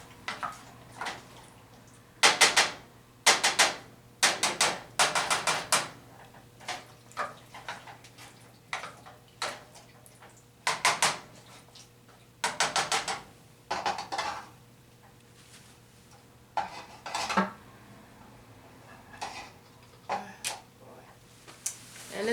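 A spoon scrapes and clatters against a cooking pot while chana masala cooks, in bursts of bright metallic scraping and knocking spaced by short pauses over a low steady hum, close and fairly loud.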